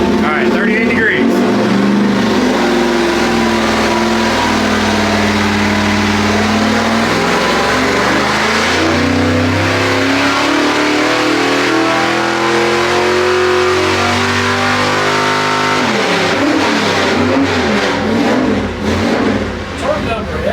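A 383 small-block Chevy V8 on a dyno roars loud and close through a long full-throttle pull, its pitch climbing steadily before dropping off near the end, with voices underneath.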